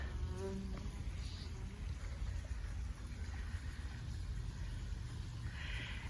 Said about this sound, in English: Yes, get to work, little bees.